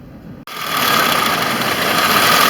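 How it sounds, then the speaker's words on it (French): A Citroën Xsara petrol saloon engine runs rough and bucks after a brief silence, rising to a steady, loud, buzzing drone with uneven pulsing close by. "Allez, le moteur il broute."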